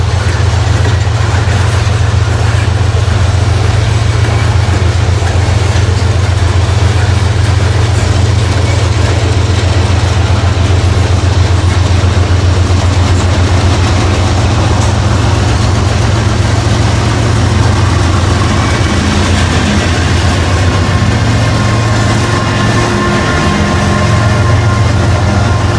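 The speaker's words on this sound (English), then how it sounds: "Sound like that rear DPU is running, but I think if it is, it ain't working real hard." A loaded coal train rolls past with a rear DPU locomotive running lightly, giving a steady, loud low engine drone and rumbling rail noise that holds throughout with little change.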